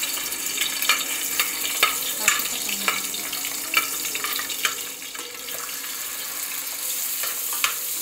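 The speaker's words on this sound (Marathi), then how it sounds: "आता आपण पहिले चरबी टाकू तेलात" Animal fat sizzles loudly in hot oil in a pan, a dense continuous crackle with sharp intermittent pops and spatters close by, and no one talking.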